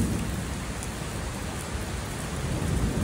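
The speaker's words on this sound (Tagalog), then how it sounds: "It's raining hard here at Starling Mall." Heavy rain at Starling Mall, a dense and constant roar of downpour on surfaces, close and loud, with no talking.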